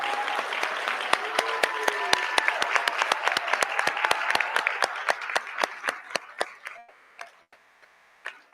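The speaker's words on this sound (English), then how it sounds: "So let's give them a round of applause." A school board trustees' meeting audience breaks into applause for three people from Woodland, a dense crowd clapping that thins into scattered individual claps before fading out.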